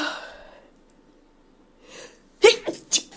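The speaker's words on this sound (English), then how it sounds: "Oh my god, I have to sneeze." A breath trails off into quiet, then a sharp sneeze bursts out near the end, followed by a short sniff.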